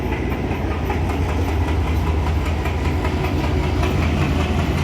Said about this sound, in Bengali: সরি মাল ট্রেন যাইতেছে।